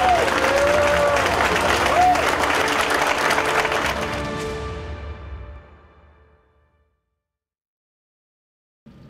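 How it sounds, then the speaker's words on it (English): A crowd at a college football coach's show breaks into loud, full applause, which swells briefly under a speaking voice and then fades out over several seconds into silence. "Clap it up for me."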